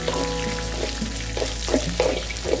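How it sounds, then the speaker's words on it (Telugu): Almonds and raisins frying in a pan, giving a steady close sizzle with a few stirring clinks and scrapes across the short stretch, no voices. "అండ్ ఇప్పుడు దీంట్లోకి యాడ్ చేసేసి ఒకసారి ఫ్రై చేసేసుకుందాం."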